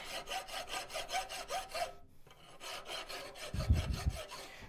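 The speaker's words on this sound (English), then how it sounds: "Now we will just clean that up a little bit with a file." A hand file rasps across a forged iron tenon in steady back-and-forth strokes, about eight even passes, a brief pause, then more filing with a low bump near the end; close and clear with no talk.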